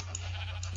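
A sheep in the Minecraft video game bleats once, a short buzzy wavering call, close and clear with no talk.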